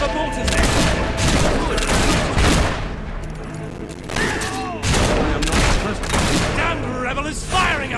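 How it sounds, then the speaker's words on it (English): Gunfire and mortar blasts from a battle in the video game Fable III, with dense, loud volleys of shots and booms running continuously, with voices speaking over them. "We're under fire!"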